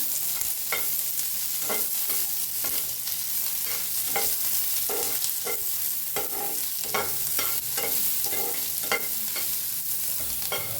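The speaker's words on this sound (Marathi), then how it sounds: "तसच भाजून घेऊया थोडस तेल भाजून घेऊया कांद्याला जरा" Onion and garlic fry in a little oil while a spoon stirs them in a steady rhythm of scraping strokes over a soft, constant sizzle.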